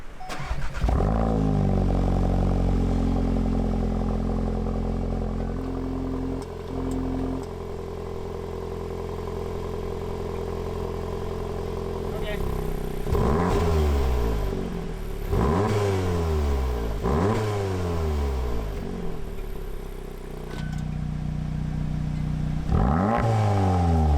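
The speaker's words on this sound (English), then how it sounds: "we'll start this thing up, we'll get some heat in the engine" A VW Golf R or Audi S3 car engine with an aftermarket exhaust cranks and catches, then idles while being revved several times in short bursts, settling back to a steady idle between rises.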